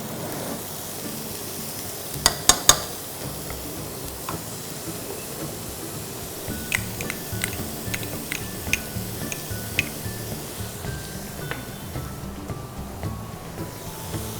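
Chopped celery goes into a pan of cooked onions, a soft steady sizzle under sharp taps and clicks of a utensil stirring against the pan.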